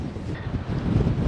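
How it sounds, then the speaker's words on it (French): Strong wind gusts across a coastal hillside near Carboneras in Spain, a loud, continuous low roar buffeting the microphone with no pauses. "Je vous garantis, le vent il souffle."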